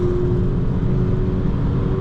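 A 2024 VW Polo GTI with the 2.0 TSI engine (207 hp) holds a steady, loud engine drone under acceleration, with road and wind noise and no voices.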